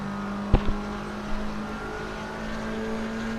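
A steady engine drone from GT3 and GT4 race cars at the Catalunya circuit, including a McLaren, holding a constant pitch with a couple of short sharp clicks near the start.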